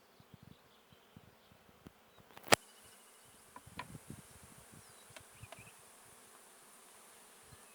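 Honey bees buzzing during a beehive inspection: a soft continuous hum with scattered clicks and light knocks of frames and wood, one sharp tap early, no talking.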